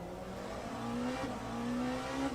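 Porsche race car in Le Mans Ultimate, its engine heard from outside as a steady mid-level drone with a rising whine that climbs, blips, and climbs again, no talking.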